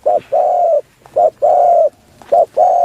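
A spotted dove, kept as a mountain dove for cooing contests in a forest between Phetchaburi and Ratchaburi, coos loudly and close in a repeating pattern: a short note followed by a longer sustained coo, three times, with no voices.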